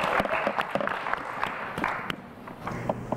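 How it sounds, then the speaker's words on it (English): A small quiz show audience claps in a loose burst of applause for a team, sharp uneven hand claps close by that thin out toward the end. "How about a round of applause for our team?"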